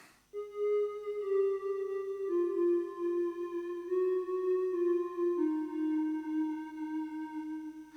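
A preset pad from an Oberheim Expander synthesizer holds smooth sustained tones that step down through a few long notes over several seconds, even and moderately loud, alone without voices.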